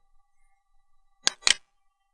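A computer mouse clicks a link on a web page: two short, crisp clicks in quick succession, close and fairly faint against near silence.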